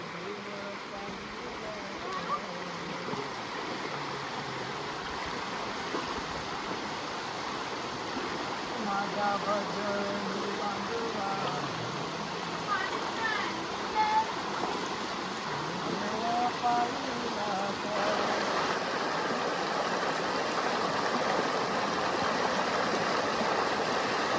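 Water flowing steadily in a village river, a continuous broadband rush that stays level throughout, with faint voices in the background.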